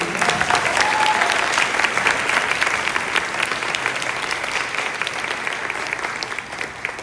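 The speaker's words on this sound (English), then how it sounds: "how about a round of applause for Vicky?" A round of applause for Vicky from a seated gala audience at a San José Library Foundation event, full steady clapping close up that gradually eases and fades near the end.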